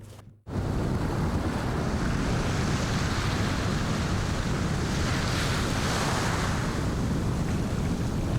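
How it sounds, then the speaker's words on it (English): Steady, continuous roar of ocean surf breaking at a Maldives atoll, loud and close with wind buffeting the microphone, starting after a brief silent gap and holding constant throughout. "Waves are coming"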